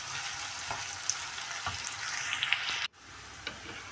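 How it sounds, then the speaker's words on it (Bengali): Onion frying in oil in a wok for a shrimp and bean stir-fry, a continuous close sizzle with small crackles and pops that drops out sharply near the end, then resumes more softly. "কড়াইতে আমি তেল দিয়েছি, দিয়ে দিলাম পেঁয়াজ"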